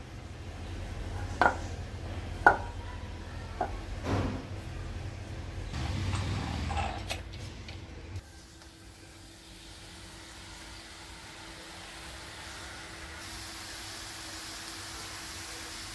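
Madras mixture dough pressed into hot oil, giving a steady, fairly loud frying hiss after a few seconds of kitchen clatter and knocks.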